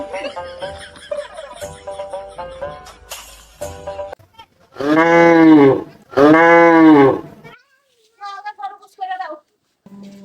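A cow moos twice, long and loud, the two calls back to back in the middle, with music and voices around them before and after.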